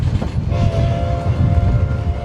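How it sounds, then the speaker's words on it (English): A historic Cumbres & Toltec Scenic Railroad train rolling into Osier Station in the Rockies, a loud low rumble of cars with a sustained horn tone, no voices. "the train rolls into Osier Station"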